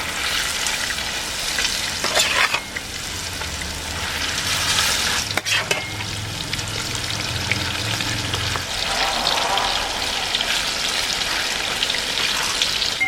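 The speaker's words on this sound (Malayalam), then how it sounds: "അപ്പോൾ നമുക്ക് ബാലൻസ് ഉള്ള മീനും കൂടെ ഫ്രൈ ചെയ്തെടുക്കാം." Tuna pieces fry in hot oil for a Kerala-style fish pickle, a loud continuous sizzle and crackle with occasional stirring scrapes and clatter, close up.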